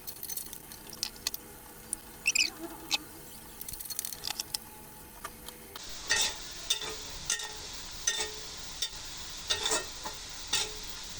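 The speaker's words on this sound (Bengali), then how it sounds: "চিকেন বা লুচি রান্না করার জন্য বেশি করে পেঁয়াজ বেরেস্তা করে নেব" Plenty of onions fry in a pan, being browned crisp for chicken balochi. A quiet, soft hiss runs under sporadic clicks and scrapes of stirring, growing a little louder and busier halfway through.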